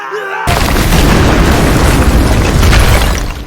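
A grenade explodes in wartime: after a brief quiet moment a sudden, loud, close blast erupts and rolls on as a dense, sustained rumble until the end.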